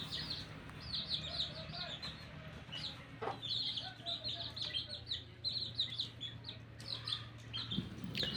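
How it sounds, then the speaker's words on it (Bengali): Many birds, including quail, pigeons, ducks and chickens, chirp and cluck continuously at a bird market against a busy background, with a low hum and faint voices around. "এখানে অনেক রকমের পাখি পাওয়া যায়, আর কবুতর, হাঁস, মুরগি কিন্তু এই হাটে সবই পাওয়া যায়"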